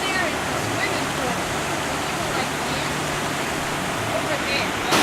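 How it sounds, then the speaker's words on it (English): Rushing water pours steadily through a Missouri state park on a spring day, a broad, constant wash that holds at an even level for the whole stretch with no talking over it. "You can hear the rushing water"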